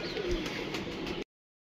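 A pigeon coos softly nearby, a low murmuring call lasting about a second before the sound cuts off abruptly.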